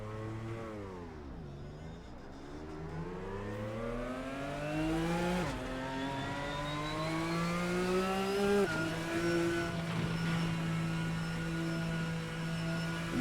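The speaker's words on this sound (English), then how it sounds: "Love the sound of a flat 6 engine." A flat-six engine in a GT car from the RSS GTN pack in Assetto Corsa revs up through several gears, rising whines with shift breaks, steady and fairly close with no talk.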